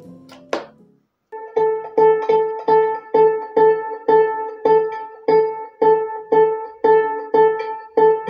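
A wireless microphone feeds an amplifier, which plays back a steady, evenly spaced run of sharp repeated tones after a brief burst of noise at the start, fairly loud and without talking.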